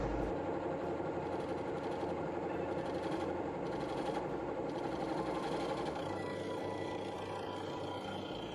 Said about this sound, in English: By dropping the handle down low, I can use the wing of the bowl gouge to cut rather than scrape the surface.